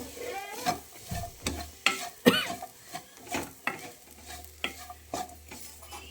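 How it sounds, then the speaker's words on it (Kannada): Grated coconut is stirred in a pan for a jackfruit seed snack, with about a dozen rhythmic scraping strokes of a utensil over a faint sizzle, close and clear, with no talking. "ತೆಂಗಿನ ತುರಿ ಹಾಕಿ ಒಂದು ಎರಡು ನಿಮಿಷ ಈ ಥರ ಮಗ್ಚಬೇಕು"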